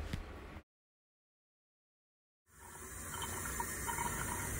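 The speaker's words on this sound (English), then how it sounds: "Fill up your ice cube tray halfway full." Tap water runs steadily into an ice cube tray, a close, continuous gushing stream that starts after a short silence and holds at an even level.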